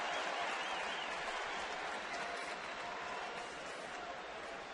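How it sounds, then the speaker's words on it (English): A packed baseball stadium crowd at a Giants–Dodgers night game in Los Angeles erupts in steady applause and cheering, a broad, sustained wash of clapping that holds throughout and fades only slightly. "And of course the crowd reacts."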